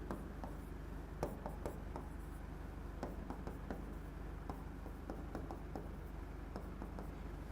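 Chalk or marker taps and scratches across a board while a chemical structure is written in an organic chemistry class, a faint, irregular series of short strokes and clicks.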